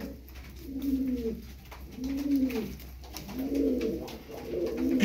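Domestic tumbler pigeons coo in repeated soft, rolling phrases, about four calls in five seconds, close by and fairly quiet with no voices over them.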